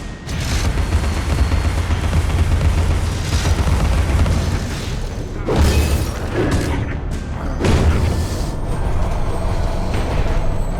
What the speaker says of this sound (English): Stop throwing bombs at me, please.